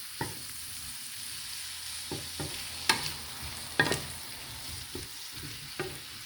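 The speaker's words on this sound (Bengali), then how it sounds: "এবার সব কিছু মিশ্রণগুলোকে একটুখানি নাড়িয়ে চাড়িয়ে মিক্স করে নিতে হবে ভালো করে" A kohlrabi mixture seasoned with black pepper is stirred in a sizzling pan, giving a steady frying hiss broken by several distinct scrapes and clinks of the spoon, close by and with no talking.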